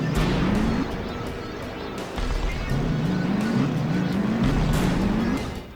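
Construction vehicles such as excavators and bulldozers battling in the PlayStation 2 fighting game Battle Construction Vehicles, with loud engine drones and whirring motors rising and falling in pitch amid game noise.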